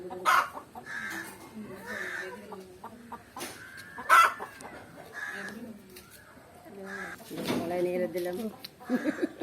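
Chickens cluck and coo close by in a coop in Jaffna, Sri Lanka, in a busy, uneven chorus, with people talking faintly among them.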